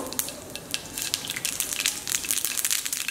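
Mustard seeds dropped into about two spoons of hot oil in a pan, crackling and spluttering steadily with dense, irregular pops throughout.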